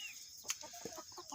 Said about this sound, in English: There are chickens in the vicinity.